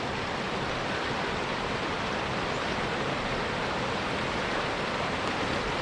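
A stream along Lewis Creek Trail rushes in a steady, dense wash of water, constant and fairly close, with no voices.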